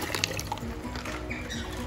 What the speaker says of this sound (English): Now we're going to be pouring the water in the net.